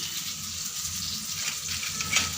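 Green chilies frying in hot oil in a home kitchen, a steady close hiss and crackle of sizzling with a brief sharper pop near the end.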